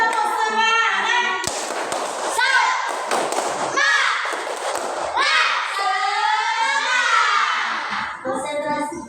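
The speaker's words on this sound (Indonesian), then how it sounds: "semuanya tepuk semangat ya. 1, 2, 3, tepuk semangat" A classroom of children does the rhythmic 'tepuk semangat' spirit clap, with a series of sharp claps and thumps mixed with excited young voices, loud and close.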